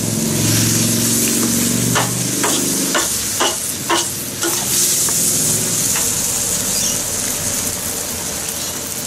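Spring onions frying in a wok for beef chow mein give a loud, steady sizzle with stirring and scraping, a few sharper clatters partway through, and no talking.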